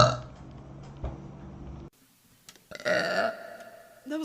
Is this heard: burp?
yes